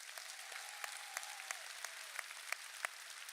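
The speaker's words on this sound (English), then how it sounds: "Let's give AJ a round of applause." Scattered applause from a high school commencement audience at a graduation ceremony, fairly faint and distant, with a few sharper individual claps standing out over a steady patter.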